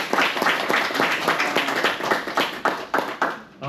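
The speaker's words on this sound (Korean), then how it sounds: "이제 박수 한 번만 더 드리고 가겠습니다" An audience at a summer school teacher training session claps after a lecture, a close, brisk patter of many hands in a room that thins out briefly near the end.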